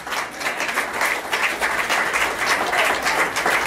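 A crowd applauding steadily at a church service, dense clapping filling the room throughout with no break.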